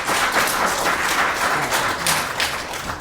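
Dense applause from the public at a county board of commissioners' meeting, a steady, fairly close wash of many hands clapping throughout the short stretch.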